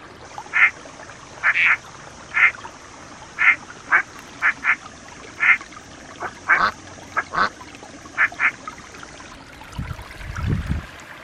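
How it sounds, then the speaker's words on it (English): A duck quacks in a rapid series of short, clear calls, about a dozen spaced irregularly, with faint background hiss and a brief splashing, water-like noise at the end. "duck."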